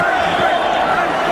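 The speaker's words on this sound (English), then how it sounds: "Now the crowd begins to implore Tyson" Boxing crowd at a Mike Tyson bout against James Tillis, a dense roar of many voices shouting together in a large arena, loud and sustained for a brief moment.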